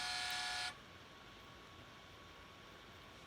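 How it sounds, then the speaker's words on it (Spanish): A truck horn sounds in one loud, steady blast lasting under a second, then cuts off, leaving quiet background hiss. "La bocina del camión."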